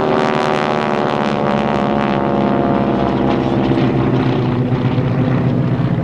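T-6 Texan propeller aircraft roar loudly and continuously overhead during a crossover pass at an airshow, a dense, throbbing engine drone that holds strong throughout with no talking audible.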